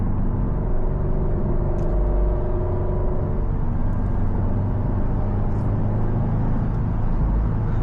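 A 2024 Subaru WRX TR cruises down the road, heard from inside the cabin as a steady, dense low rumble of engine and road noise. The level stays even and no voices are heard.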